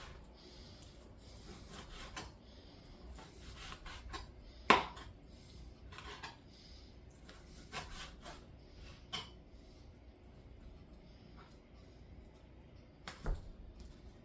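A knife slicing through bacon into strips on a cutting board, giving faint soft rubbing scrapes with a few sharper chops and board knocks spread irregularly, close by and quiet, no voices.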